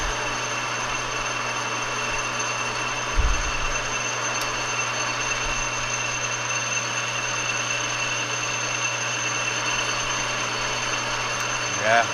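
An annular cutter with carbide teeth bores through metal, giving a loud, unbroken machine drone with a steady hum that holds for the whole stretch, broken only by a brief low thump early on.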